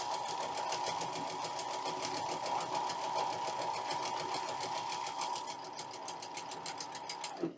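A sewing machine stitches cotton fabric pieces in a fast, steady mechanical whir with rapid needle clatter, close and continuous before slowing and stopping at the end.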